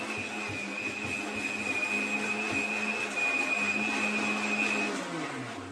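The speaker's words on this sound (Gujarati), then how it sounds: "આ મિક્સર રાખવાનું છે હો." A kitchen mixer grinder runs steadily while grinding chutney, giving a loud continuous whirring motor drone with a high steady whine, its pitch dropping slightly as it winds down near the end; no one talks.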